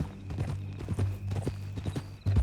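Horse hooves clip-clopping in Red Dead Redemption 2, a clear, close rhythmic trot of repeated thuds with a short snort near the end.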